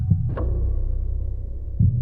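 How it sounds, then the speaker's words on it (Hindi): A heartbeat sound effect from a Hindi audio drama, with low, deep thumps spaced irregularly over a steady dull hum and no voices. "नजरें जैसे ही प्रत्यक्षा की नजरों से टकराईं, दो पल के लिए उसकी धड़कन बहुत तेज हो गई"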